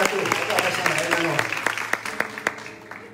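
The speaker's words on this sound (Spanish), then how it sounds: "Aplauden para 12." A young crowd at a church youth service claps in a brief round of applause, loud at first and then thinning out, with a voice talking over it.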